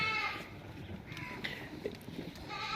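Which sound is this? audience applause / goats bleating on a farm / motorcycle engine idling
goats bleating on a farm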